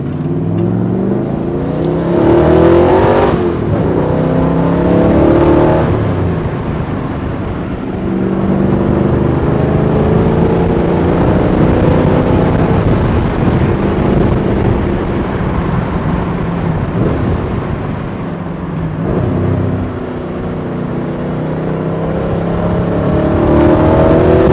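A 1986 AC Cobra Mk IV on a road drive, engine revving hard and climbing through several gears with brief dips at each shift, loud and continuous from inside the car.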